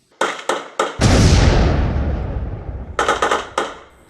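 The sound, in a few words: bursts of automatic gunfire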